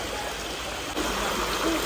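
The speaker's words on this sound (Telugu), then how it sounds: "పైన కొండల నుంచి వస్తాయట ఈ వాటరు" Stream water running down from the hills near a forest temple, a steady close trickle and rush of flowing water continuing without break.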